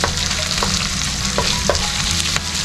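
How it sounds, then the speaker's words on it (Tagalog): Onion sizzles and fries in a hot pan for pancit canton, a steady crackling hiss with occasional stirring scrapes, close and continuous with no talk. "We're sauteing onion."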